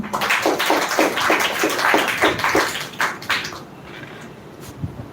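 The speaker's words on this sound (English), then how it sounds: "Clap for him." Audience clapping at a spoken English speech competition semi-final, a dense wash of many hands for several seconds that thins out and fades toward the end.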